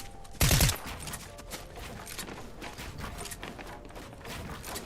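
A short burst of rapid gunfire in a competitive shooter video game cash cup match rings out loudly near the start, followed by fainter clicks and game sounds.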